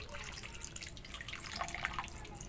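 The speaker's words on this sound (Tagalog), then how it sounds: "Lalagyan pa natin ng konting tubig oh." Water poured into a cooking pot of chicken with garlic and pineapple, a soft continuous trickle and splash behind a low background hum, fairly faint.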